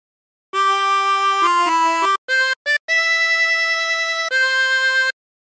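Chromatic harmonica playing a phrase of Battle Hymn of the Republic, a run of clear sustained reedy notes with short breaks between them, close and solo.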